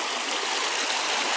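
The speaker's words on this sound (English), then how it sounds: "Quite a fast moving stream" A fast-moving stream at a woodland combe ford rushes and gurgles continuously, close and steady, with no voices over the flowing water.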